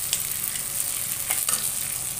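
Ground cumin, coriander and chili powders sizzle in a hot pan while being stirred, a close, steady hiss with a couple of brief scraping strokes and no voices.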